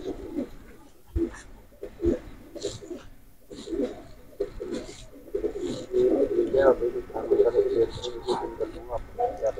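A Rampuri male and Teddy female pigeon pair coo in soft, repeated low calls that grow busier toward the end, with someone talking over them.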